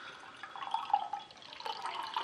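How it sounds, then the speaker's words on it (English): Tiny Rebel Hot Box Smoked Indian Ale is poured aggressively, giving a short, close, fizzing glug and splash of liquid that lasts about two seconds with no talking. "I'm pouring very aggressively trying to get a bit of head on this"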